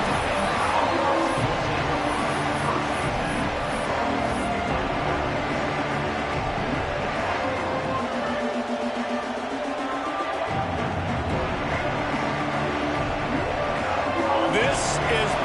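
Football stadium crowd roaring loudly and continuously throughout, a dense wash of cheering and noise from a large crowd with a play-by-play announcer talking over it.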